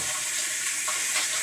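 Water rushing steadily through a home water softener while it draws salt water out of the brine tank, a continuous broadband hiss and flow with no voices.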